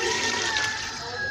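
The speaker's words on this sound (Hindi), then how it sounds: "अब हम इसमें डालेंगे पानी।" Water pours into a pot of chickpea pulao after the chickpeas have been roasted, ahead of soaked basmati rice; a brief, steady splashing stream runs throughout.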